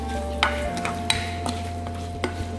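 Chicken sopas mixture stirred in a pot over a low simmer, with a spoon clicking and scraping against the pot several times, close and quiet, with no talking.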